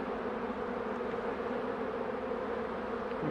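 A honeybee swarm being put into a hive hums in a dense, continuous buzz, steady and close throughout with no talk.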